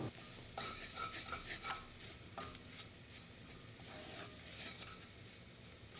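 A butter and flour roux is stirred in a heavy-bottom pan, with close, repeated scraping and rubbing strokes over a low, soft sizzle, fairly quiet and with no talking.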